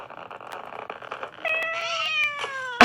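Cartoonish cat meows from the video game Angry Cats, several rising and falling calls growing louder and denser toward the end, closing with a sharp loud burst, with no talking.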